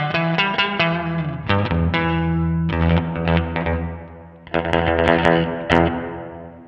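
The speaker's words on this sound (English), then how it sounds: "Let's bring in our first reverb, which is a room reverb." Clean electric guitar chords and single notes through a NUX MG-300 room reverb ring out with a short, roomy reverb tail, played steadily and fairly loud with no talking.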